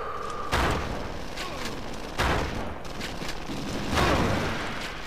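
Shotgun blasts from the Xbox first-person shooter XIII go off in loud, booming bursts, about three heavy shots spaced a couple of seconds apart over game background noise.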